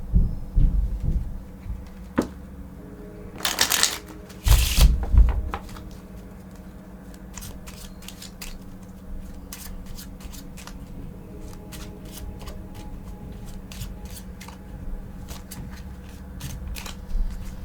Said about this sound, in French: Donc, tu peux mélanger tes cartes.